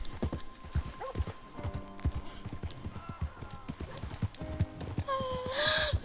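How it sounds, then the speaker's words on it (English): A horse gallops and stumbles in the Red Dead Redemption 2 video game, with close, rapid clip-clopping hoofbeats over uneven footing and a brief whinny-like call near the end. "I made the horse go trip"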